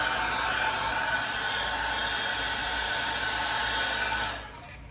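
A heat blower heat-sets a soft plastic bass lure with a loud, steady whooshing hiss of hot air that holds constant for over four seconds before winding down at the end.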